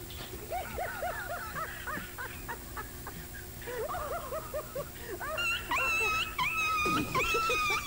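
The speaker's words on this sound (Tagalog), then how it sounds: "galit na aso, o naiyak na, gutom na" A dog whines and wails over and over, rising to long high-pitched cries near the end. It sounds near and insistent, hungry or upset, with faint voices in the background.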